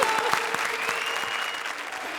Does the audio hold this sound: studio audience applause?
yes